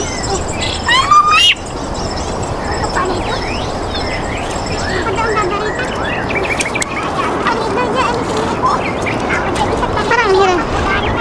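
Birds call and chirp on a mountainside, a busy mix of short rising and falling notes scattered throughout, fairly near, with people talking underneath.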